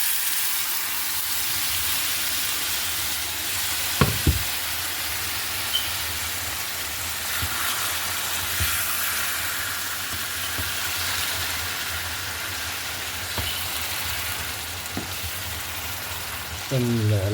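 Boiled pork with some of its water sizzles in a pan for a Kerala-style pork roast, a constant bubbling hiss with a few sharp utensil clinks and stirs.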